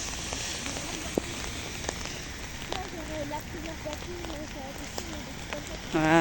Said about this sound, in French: Du coup, on y va dans la pluie, malheureusement.